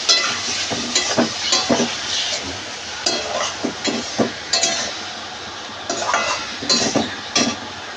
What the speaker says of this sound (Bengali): সামান্য একটু জল দিয়ে দেবো, দিয়ে ভালো করে মশলাটা কষিয়ে নেব।